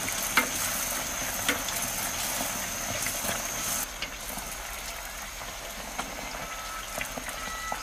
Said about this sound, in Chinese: 给它放到锅里面定型之后呢，给它快速翻动翻动